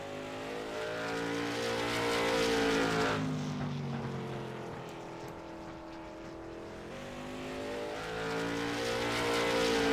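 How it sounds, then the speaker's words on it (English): Race cars lapping a track in a racing video game give a continuous loud engine drone that rises and falls in pitch with shifting revs, as one car passes and another approaches. "only 2 cars turning laps right now"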